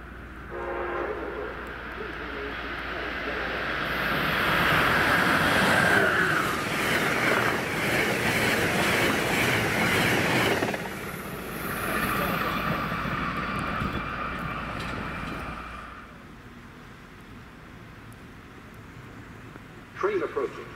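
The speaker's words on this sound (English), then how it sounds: "Train approaching. Please remain behind yellow line." A train approaches and passes through Canton Junction station in snow, its horn sounding loud and near over a rising rumble of wheels and cars that swells, holds, then fades away.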